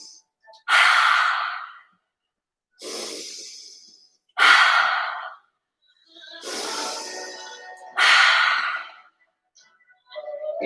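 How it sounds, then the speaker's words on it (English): Slow, deep breaths during a yoga exercise, heard close up: five long airy breaths spaced a couple of seconds apart, with near silence between them and no speech. "Inhale deeply."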